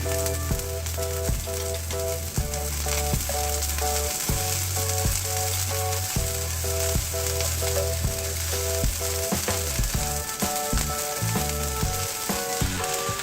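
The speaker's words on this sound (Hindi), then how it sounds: "अब इसमें प्याज ऐड करेंगे। इसको हल्का सा फ्राई करेंगे" Onions frying in oil in a pan give a steady close sizzle that runs throughout, with tonal background music playing over it.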